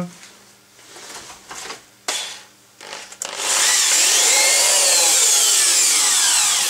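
After a few short knocks and scrapes, an electric drill fitted with an 18 mm socket whines up loudly and runs steadily, straining as it turns over the engine of an old Lawn Boy 21-inch lawn mower.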